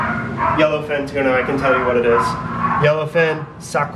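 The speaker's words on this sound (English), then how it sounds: "Sorry for the dogs in the background." Dogs bark and yip in the background during sushi preparation with yellowfin tuna, as repeated short barks under a person talking steadily in the foreground.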